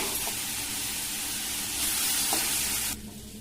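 Bitter gourd curry simmering in a pan until its water cooks off, with a steady close hiss and sizzle that drops away abruptly near the end.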